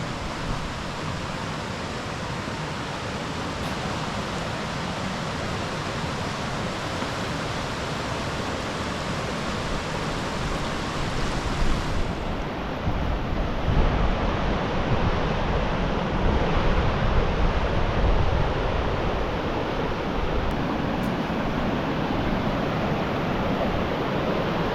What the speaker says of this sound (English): if you head down to the left to the riverside, Ghaistrill Strid is more impressive and faster flowing now